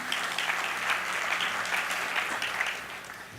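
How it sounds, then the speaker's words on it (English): Audience applause at a live podcast recording, steady dense clapping from a room full of people, moderately loud and continuous for a few seconds before tapering slightly. "Have a quick round of applause for everybody"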